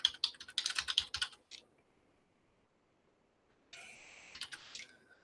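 Clicky keystrokes on a computer keyboard, a quick burst of typing at the start, a pause of near silence, then a shorter run of key presses while filling in a form; close and fairly quiet with no talking.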